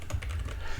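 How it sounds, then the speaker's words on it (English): Rapid typing on a computer keyboard, close and steady with a continuous run of light key clicks and no talking. "for my typing here. It's like I got a cable running across my keyboard"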